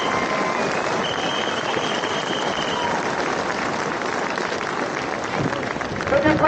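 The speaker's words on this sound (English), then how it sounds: "Give yourselves a clap." Crowd at a farmers' protest claps together in a dense, continuous roar of applause that holds steady throughout, with some cheering mixed in and a faint whistle-like tone.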